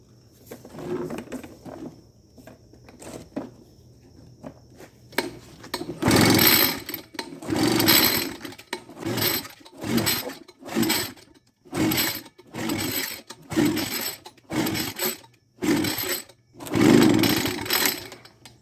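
An Echo backpack leaf blower with a newly replaced coil is pull-started again and again: about ten close, loud bursts of rasping cord pulls and brief sputtering engine catches, with short pauses between them.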